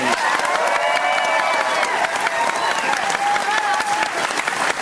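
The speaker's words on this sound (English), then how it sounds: "Would you give them a round of applause, please?" A television music quiz studio audience gives a round of applause for the band, dense, continuous clapping with some cheering and a few voices mixed in.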